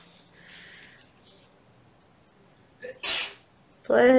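A single sharp sneeze bursts out near the mic, preceded by faint rustling and soft breathing, with a brief voiced sound right after it.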